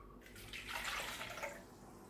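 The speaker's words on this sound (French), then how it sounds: "Nous allons mettre en premier lieu 250 ml d'eau tiède." Lukewarm water, about 250 ml, pours briefly into a container on a kitchen scale for pita bread dough, a soft close splashing stream that swells and fades.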